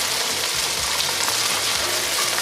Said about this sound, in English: our lamb's been browning up